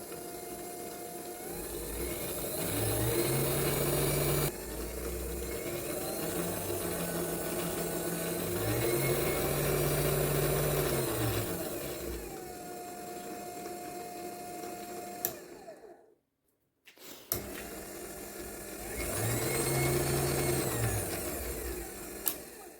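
Small Proxxon benchtop lathe motor running steadily after switch-on, a close, even whine that rises and falls in pitch as the speed changes, cutting out briefly and then restarting.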